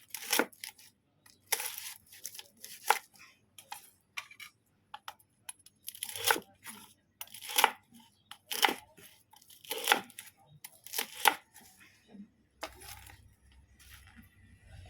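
A knife chops crispy fried pork in sharp, crunchy strokes on a board, irregular bursts separated by brief pauses, close and clear with no talking.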